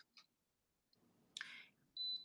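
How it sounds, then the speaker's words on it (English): An automatic hair curler gives a short, bright electronic beep once it finishes a curl, a brief tone following faint clicks and rustling in a quiet room. "Then it's about 10 seconds. It'll beep"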